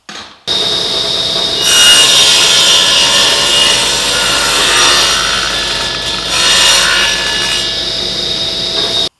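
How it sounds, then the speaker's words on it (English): A table saw blade set to a quarter-inch height cuts rabbets in wood for a dog toy box, a steady loud whine running almost nine seconds with two swells as the stock feeds through, no voices. "we're going to set the blade height to a 1/4 inch. And that's where we're going to cut our saw curve"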